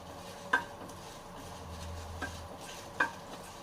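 Bitter gourd is stir-fried in a pan under a faint, low sizzle, with three distinct spatula scrapes and clinks against the metal.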